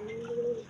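A young blue bar pigeon gives a single soft, drawn-out coo lasting under a second, close and gentle against a quiet background.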